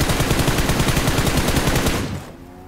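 Rapid automatic gunfire in a video game, a dense continuous burst of close, loud shots for about two seconds before cutting off abruptly into quiet.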